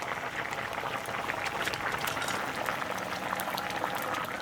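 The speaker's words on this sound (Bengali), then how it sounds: "দেখে নিচ্ছি একদম পুরো সেদ্ধ হয়ে গেছে আলু কলা সব মাছ দিয়ে দিই" A pot of khoira fish, potato and banana curry boils on the stove with continuous, dense bubbling and gurgling, close and steady for the whole stretch.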